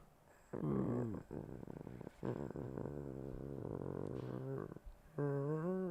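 A person imitates a cat's purr with a low, rattling throat sound in several stretched bursts, separated by short pauses, close and fairly loud.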